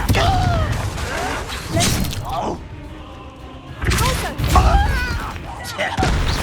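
Confringo fire spell blasts in Hogwarts Legacy, loud booming thuds and crackling impacts in a busy battle mix, with a quieter gap midway and shouted voices over the combat.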